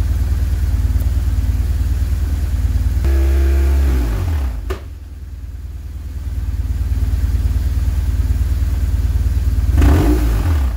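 BMW R 1150 GS motorcycle engine idling steadily during an oil test, a continuous low throb that briefly changes pitch and dips mid-clip before settling back, with no talk.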